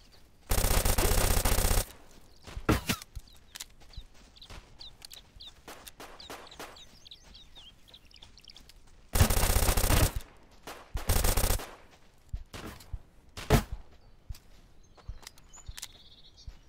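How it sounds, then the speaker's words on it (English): Shotgun fire in the video game Deadside, a few loud booming blasts spaced seconds apart among quieter footsteps and ambient game sounds, close and harsh, no talking. "I shotgunned him right in the fucking chest"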